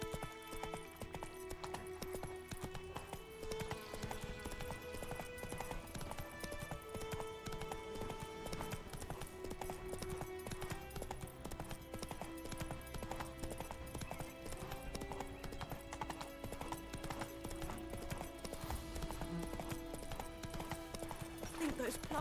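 A horse galloping in the video game Witcher 3, steady rhythmic hoofbeats running throughout over a constant bed of game music.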